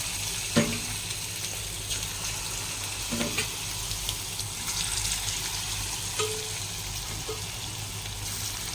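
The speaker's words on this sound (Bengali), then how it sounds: "একটা একটা করে সব পকোড়াগুলো ভেজে নেব" Pakoras deep-fry in hot oil, a soft, steady sizzle that carries on throughout, broken by a few faint clinks and stirs, with no talking.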